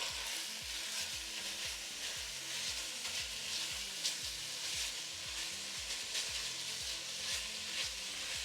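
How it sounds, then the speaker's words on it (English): Meat fries loudly in a pan with a constant sizzle. Repeated scraping strokes of stirring run through it in a steady rhythm, close up. "stir that around"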